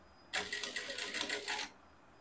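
A sewing machine runs a seam up to a notch on a bustier with a deep plunging neckline, a rapid rhythmic stitching chatter that lasts about one and a half seconds, close and clear against a quiet room.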